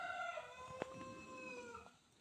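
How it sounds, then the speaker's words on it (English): A chicken in a Kenyan home kitchen gives a long, drawn-out crowing call in the background. It sounds faint and somewhat distant, with one sharp click partway through and no talking. "don't know what's wrong with that chicken there"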